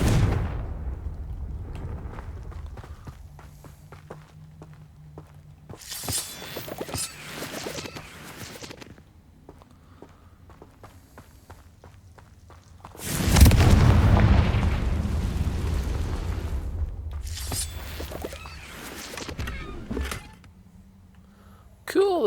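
Spell blasts of Bombarda and Confringo in Hogwarts Legacy: loud, booming explosions burst out, one large blast rumbling on for several seconds before fading, with a voice speaking between them.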